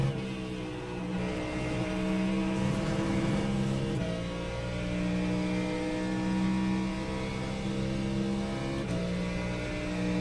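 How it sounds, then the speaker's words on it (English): A Corvette GT3 race car engine runs at speed on track past the Mulsanne, making a steady, droning engine note rich in harmonics with slight pitch shifts, heard up close from onboard without talk. "Car sounds unbelievable."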